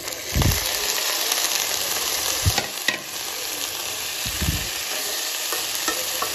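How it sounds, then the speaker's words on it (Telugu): Potatoes and beans sizzle steadily in a hot oiled pan for an aloo, beans and cauliflower fry, with a few dull scrapes and knocks of a spatula stirring them, fairly close and continuous, with no talking. "ఇప్పుడు ఇందులో యాడ్ చేసుకుందాం బీన్స్ అండ్ ఆలు."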